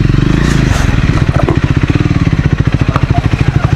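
Triumph Scrambler 400 XC motorcycle on an off-road ride, engine loud and close, first a smooth rising rev and then a quick, even chugging beat that runs on steadily.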